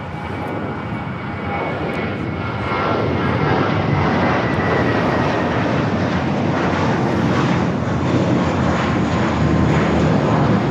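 An American Airlines A321 taking off from LAX bound for Las Vegas, its engines a loud, continuous roar that swells and holds steady, heard from a distance with no talk.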